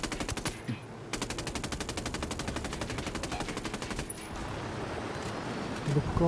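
Rapid automatic gunfire in Ghost Recon Wildlands rattles in long, evenly spaced bursts, breaking off briefly before resuming and then fading into a rougher, denser clatter.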